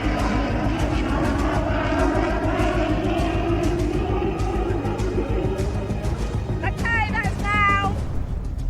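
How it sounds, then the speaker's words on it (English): An Avro Vulcan bomber roars loudly and continuously overhead at an air show, a broad rushing drone, with a brief high whining sweep near the end. "the Vulcan bomber displayed its power"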